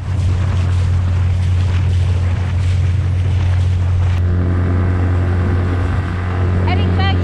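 An outboard-powered dinghy motors across the water on the Sacramento Delta, its steady engine drone loud and continuous with wind noise, changing character partway through as the ride goes on.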